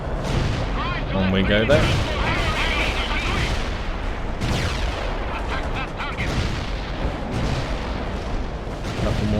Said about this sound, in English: Probably best we don't charge into our own artillery until it's finished.